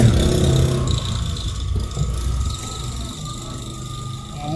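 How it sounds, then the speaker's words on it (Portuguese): A noisy small motorbike buzzes past along a street in a quiet country town in Goiás, Brazil, its engine loudest at first and then fading away, with steady low background rumble and no talk. "Uma motinha barulhenta passando aí na nossa frente, né?"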